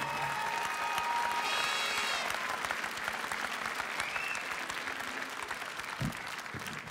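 Sustained audience applause at the Bocuse d'Or 2019 culinary awards ceremony, a dense steady wash of many hands clapping from a large crowd, fairly even throughout with no talking.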